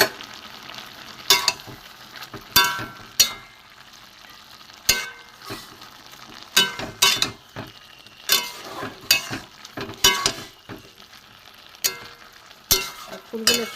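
A spatula repeatedly scrapes and stirs fried jukto flowers into a simmering vegetable chorchori with potatoes and drumstick stalks in a pan, giving sharp, rhythmic knocks over a steady low sizzle, with no talking.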